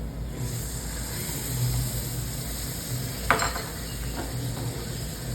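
Semolina sheera cooks in ghee while raisins and a bowl of milk go in: a soft continuous sizzle with light stirring and one brief splash or clatter partway through, no talking.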